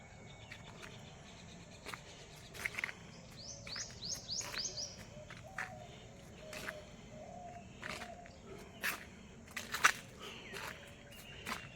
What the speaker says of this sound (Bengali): দেখুন পাখির ডাক শুনতে পাচ্ছেন কিনা